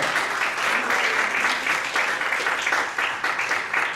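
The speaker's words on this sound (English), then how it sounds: "let's give a round of applause to our great panel" An audience applauds a hospitality industry panel, a dense, steady burst of clapping from a room of people, close and fairly loud, lasting the whole moment.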